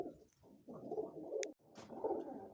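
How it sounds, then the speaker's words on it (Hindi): Pigeons in a large rooftop coop of domestic birds coo softly and continuously at close range, their low burbling calls overlapping with no talk. "कितने खूबसूरत कबूतर बैठे हुए हैं दोस्तों"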